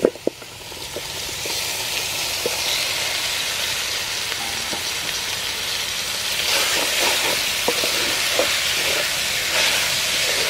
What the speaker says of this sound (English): Add beef.